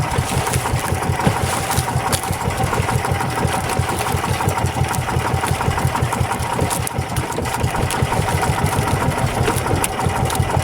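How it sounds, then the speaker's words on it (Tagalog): A loud service boat engine drones continuously at a steady mid-pitched rumble with rapid rhythmic chugging, close by and unchanging throughout, with no voices. "Kapag umaandar yung makina, nayayanig siya."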